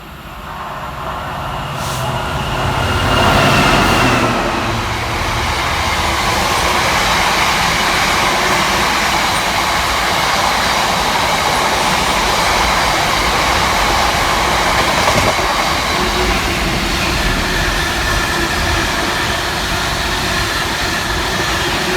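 A train roars through Tring station on platform 1 without stopping, a sustained, loud rumbling rush of wheels and wind that builds within the first few seconds and carries on steadily throughout.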